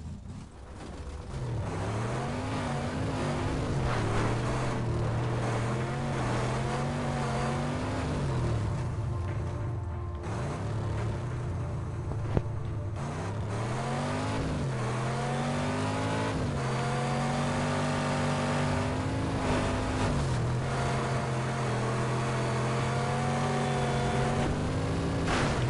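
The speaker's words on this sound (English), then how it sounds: "Monster truck stuck on a hay bale." A monster truck engine in the video game Just Cause drones and revs steadily for a long stretch, its pitch rising and falling with repeated acceleration, loud and continuous with no talking.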